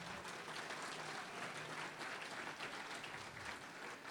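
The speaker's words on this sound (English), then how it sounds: "let's hear it, a round of applause for you" A conference audience in Austin, Texas breaks into steady, dense applause, the clapping filling the room evenly for several seconds at a fairly low level, with no voices over it.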